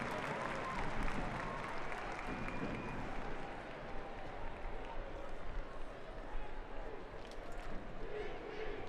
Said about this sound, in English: Crowd getting behind their side,